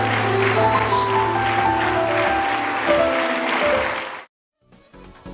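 A church congregation claps loudly and steadily together over sustained music for about four seconds, then the sound cuts off abruptly to near silence before faint music returns.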